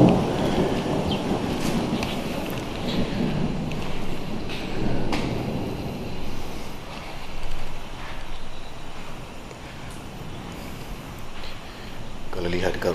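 Heavy rain pouring down near a house close to Bukit Miku forest reserve, a dense continuous roar with gusty swells and occasional rumbles, loud and close while people talk through it.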